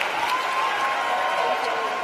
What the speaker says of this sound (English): Give our panelists a big round of applause.